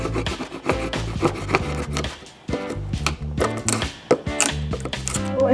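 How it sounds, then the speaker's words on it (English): A chisel knocks and scrapes out leftover wood between saw cuts while building an indoor play tent, a close series of irregular taps and rasping scrapes with short pauses. "I just use a chisel to bump out,"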